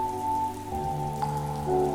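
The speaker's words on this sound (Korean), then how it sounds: "무질서하게 땅을 두들기던 빗소리" Rain beating steadily on the ground, a soft continuous patter of drops at low volume with a faint tonal hum running underneath.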